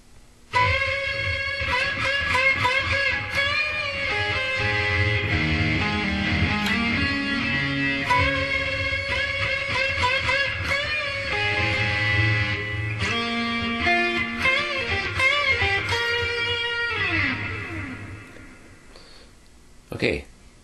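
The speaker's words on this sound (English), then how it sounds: "Okay, I'll play it and I'll show how it's played." An electric guitar plays a song's solo with sustained bent notes and fast runs over distortion, loud and alone, ending in a sliding descent and a final stab.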